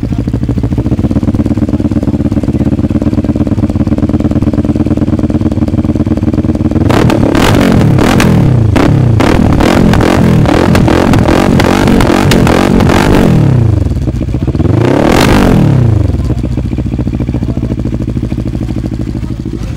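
A motorcycle engine, either a Moto Morini or a Honda Africa Twin, idles loudly up close, then revs hard in a quick series of throttle blips, followed by one more long rev before settling back to a steady idle.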